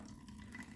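Fuel streaming from a small fuel line on a Generac GP3250 portable generator into a plastic water bottle, a steady close, quiet trickle and splash of liquid with no talking.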